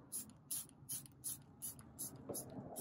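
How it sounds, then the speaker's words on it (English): A spray bottle mists water mixed with detergent onto freshly laid ballast on On30 model railroad track: about six short, close hissing spritzes in a steady, even rhythm, with nothing else heard. "Just a light mist on here,"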